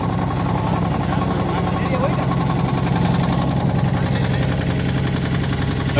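A motor boat engine runs on the Ganges at Kashi, a loud, steady low drone with a rapid mechanical throb, continuous and close, with voices faintly under it.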